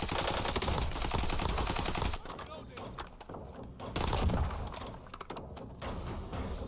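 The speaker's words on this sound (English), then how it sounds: "Oh, no, stop shooting at me." Rapid bursts of gunfire in the video game Warzone rattle in close, repeated volleys, then come in shorter, sparser shots amid game noise.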